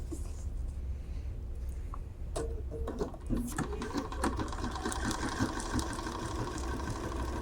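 A Bernina sewing machine stitches a dense pattern fill, its fast even mechanical whir running close and steady while a person talks over it at times.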